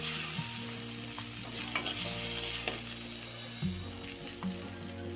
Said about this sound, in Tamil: கருவேப்பிலை, ஒரு கட்டு கருவேப்பிலை சேர்த்து நல்லா வதக்கிடலாம்.